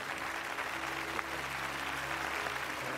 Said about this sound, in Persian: درخواست میکنم که به خاطر همه خدماتی که آقای شمسایی داشتن تشویقشون بفرمایید